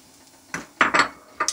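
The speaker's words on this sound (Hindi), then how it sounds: "अब मैं इसमें ये मैक्रोनी डाल दूंगी" Dry macaroni poured into a pot of boiling water in a home kitchen, a few quick clinks and rattles of pasta hitting the metal pot in short bursts; no speech.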